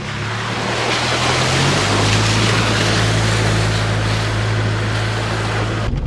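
A 4WD towing a tourer pushes through a muddy bog hole on a bush track in the Watagans, a loud steady engine drone with churning, sloshing water and mud throughout, close and continuous with no talk.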